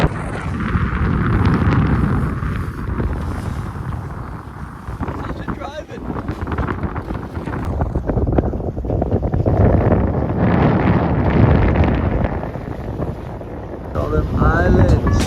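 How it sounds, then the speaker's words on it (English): A 42-foot sailboat motors along under engine at just under 4 knots, with steady low engine rumble and heavy wind buffeting the microphone throughout, plus water wash and brief louder gusts. "With the engine, we're cruising at just under 4 knots."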